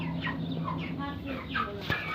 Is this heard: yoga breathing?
no